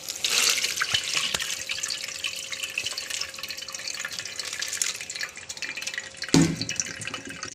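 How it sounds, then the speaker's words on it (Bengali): Soaked basmati rice being drained, water pouring and trickling steadily from a vessel into a sink, close and continuous, with a brief louder splash near the end. "দেখো জলটা ঝরিয়ে নিয়েছি"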